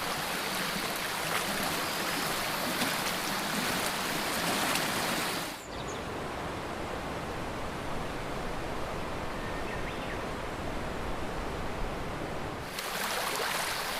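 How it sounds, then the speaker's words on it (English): Forest stream rushing along a steep mountain trail in Japan, a steady broadband wash of flowing water that drops briefly softer in the middle before surging back, close and continuous with no talk. "At points, the trail simply merges with the stream it follows"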